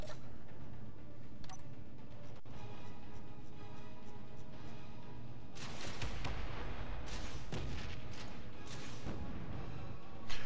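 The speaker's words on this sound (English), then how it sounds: "four shots went through it at slope" Weapon rounds strike sloped armor blocks in Space Engineers, a run of sharp impacts with a few scattered hits early, then a dense cluster of loud, close, crackling blasts in the second half.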